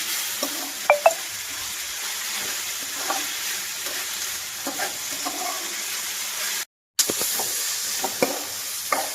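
Red amaranth leaves with green chillies, onion and tomato fry in a pan, giving a steady close sizzle broken by occasional scrapes and clinks of stirring, with a brief gap near the end.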